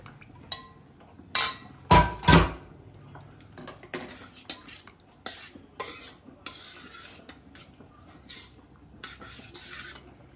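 A metal spoon stirs and scrapes through tempered gongura tomato dal in a pot, giving irregular clanks and rasping scrapes. A few strokes are sharp and loud, and quieter scraping fills the gaps.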